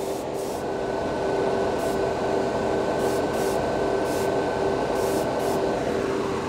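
An airbrush sprays Vallejo Premium paint onto a model part, a steady close hiss of air and paint with a faint constant hum behind it.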